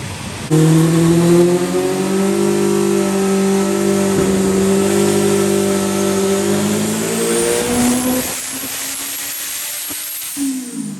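A race car engine on a FuelTech tuning run revs hard and steadily climbing for several seconds, loud and close, then cuts off with a drop in pitch near the end.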